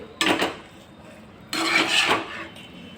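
A thickening cornflour and soybean mixture is stirred in a pan, making two bursts of close scraping and clattering of a utensil against metal separated by a quiet pause.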